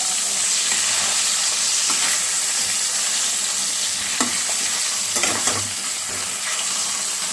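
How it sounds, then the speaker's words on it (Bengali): Hilsa fish pieces fry in hot oil in a pan, a steady close hiss and crackle with a few light clinks and spatters, and no one talking. "এই তেলের মধ্যে মাছগুলোকে আমি একটু এপিট করে ভেজে নিচ্ছি।"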